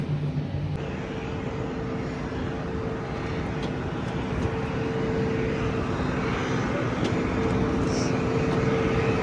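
A jet airliner idles at an airport during boarding, its engine making a steady, broad roar with a faint whine that holds level, with no pauses, for the whole stretch.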